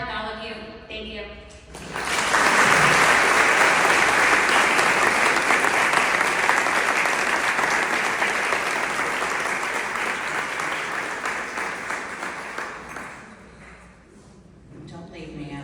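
Sustained applause from an audience honoring a speaker, loud and dense for about eleven seconds before tapering off, with brief talking before and after.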